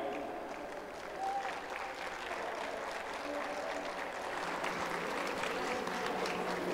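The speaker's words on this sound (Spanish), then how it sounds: "Recibamos en este escenario con un fuerte aplauso a Alberto Esquer, su señora esposa Karen Loz" Audience at a family congress applauds as speakers are welcomed onto the stage, steady dense clapping from a large crowd that continues for several seconds without letting up.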